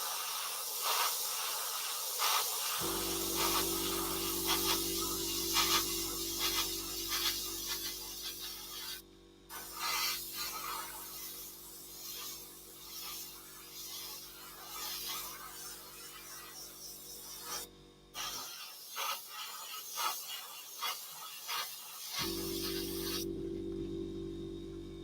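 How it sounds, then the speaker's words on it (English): Airbrush spraying Tamiya paint onto a Fine Molds Phantom scale model, a steady hiss held for long stretches with brief breaks and a low compressor-like hum underneath, close and fairly loud. "Okay, let's spray a bit."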